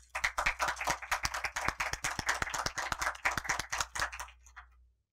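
A small symposium audience claps for a speaker, a sparse crowd of distinct sharp handclaps in quick irregular rhythm that dies away abruptly after about five seconds, leaving silence.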